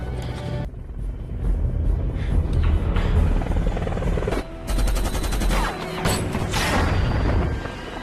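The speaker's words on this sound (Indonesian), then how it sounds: "berhasil menembak jatuh pesawat heli itu" Loud helicopter rotor noise mixed with bursts of rapid gunfire and impacts as the helicopter is shot down in the film Shooter (2007), dense and continuous throughout.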